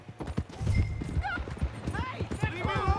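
Horse hooves clip-clop steadily in Red Dead Redemption 2, with a loud whinny rising twice over the gallop and voices speaking nearby.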